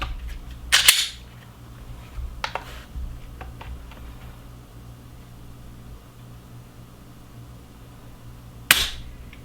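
Glock 42 pistol trigger pulled against a trigger pull gauge, giving a few sharp metallic snaps spaced seconds apart with faint clicks between, close and isolated over a quiet background, with no talk.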